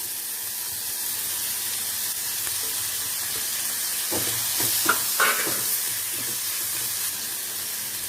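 Chopped tomato sizzling in a frying pan, a continuous hiss with a few soft stirring knocks and clatters midway.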